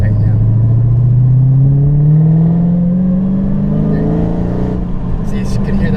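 A Dodge Hellcat's supercharged engine revs up close and loud, its rising drone overlaid by a climbing supercharger whine that holds steady for several seconds before easing off.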